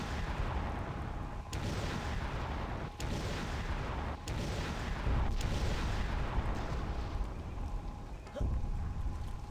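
Turret gunfire in the video game Conker: Live & Reloaded, a dense, continuous roar of shots with sharper booming blasts punching through every second or so, loud and steady throughout.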